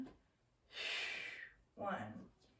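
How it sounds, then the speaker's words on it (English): A quiet inhale then exhale during a Pilates ball core exercise, two breathy rushes of air close to the microphone, softly heard over a faint background. "Go ahead and inhale. Exhale."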